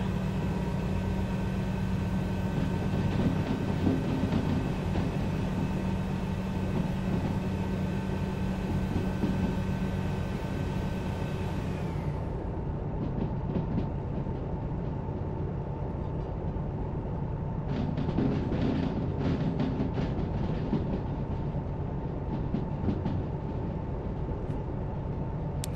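In the train game Derail Valley, a locomotive rolls along the rails with a steady mechanical hum and drone. Midway the high hiss drops away, and clattering rail noise picks up later.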